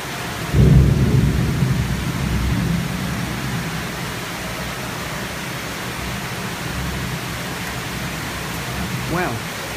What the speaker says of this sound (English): see if there's any more thunder and lightning